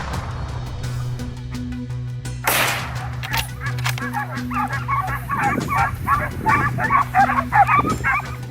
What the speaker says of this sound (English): they unleash Saluki dogs, a fast desert hunting dog breed